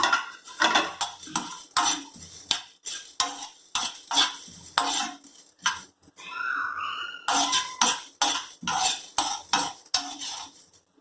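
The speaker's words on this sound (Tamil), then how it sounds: "கருக விட்டுறக்கூடாது, பார்த்து வறுத்துக்கோங்க." Chettinad chicken chukka stir-fried in a pan, a rhythmic series of close scraping spatula strokes over a soft sizzle, with a short spell of steadier frying between strokes.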